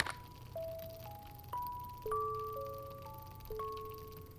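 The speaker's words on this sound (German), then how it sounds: "das hört sich so an wie die Melodie, die da gerade rauskam" A short melody from a VR horror game set in a mansion: about eight clear, bell-like tones step up and down in a steady rhythm, each ringing out and decaying, over a low, constant background hum.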